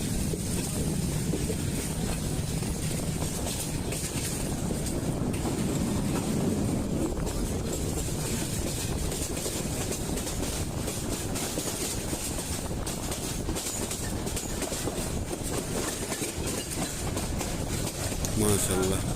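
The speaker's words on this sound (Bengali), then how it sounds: "সবুজ বনাঞ্চল দিয়ে অবিরাম ছুটে চলা ট্রেন," A train runs on through green forest toward Sylhet, heard from inside a carriage: a steady, loud rolling rumble with wind hiss and faint rhythmic clatter of wheels on rail joints throughout.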